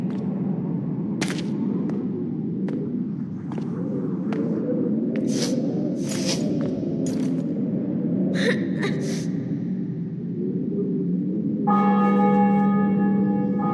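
Church bells ringing in The Witcher 2 after a city and fortress are taken, a few resonant bell strikes arriving near the end over a low rumbling crowd ambience.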